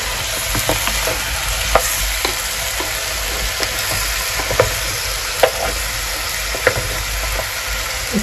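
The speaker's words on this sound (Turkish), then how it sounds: "Etimizi koyduk. Şöyle biraz kavrulsun." Meat sizzles and fries steadily in a pot, with occasional scraping stirs and clinks breaking through the constant hiss.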